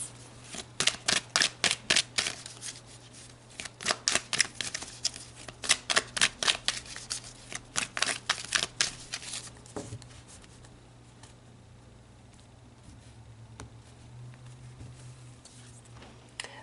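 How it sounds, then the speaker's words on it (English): Oracle cards shuffled by hand in rapid, rhythmic bursts of crisp papery taps for about ten seconds, close and clear, followed by quieter handling as cards are drawn, with no talking. "So let's pull a couple more cards."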